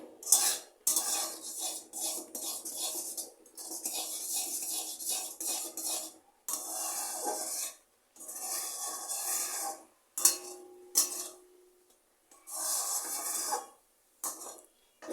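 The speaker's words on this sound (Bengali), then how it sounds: "এভাবে নেড়ে নেড়ে সুজিটাকে একটা ডো তৈরি করে নিতে হবে" Semolina being stirred into a dough in a pan makes bursts of scraping and clinking that start and stop repeatedly, close and fairly loud, with short silent gaps between strokes.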